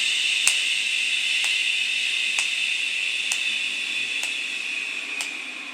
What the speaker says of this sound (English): we're going to breathe out for a count of 8. And we're just going to do that on a shh sound.